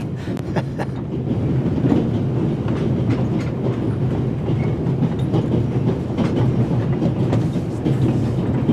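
Train moving on rails in The Raven video game: a continuous low rumble with repeated clickety-clack wheel beats and faint squeals, steady and enveloping from start to finish, with no talk.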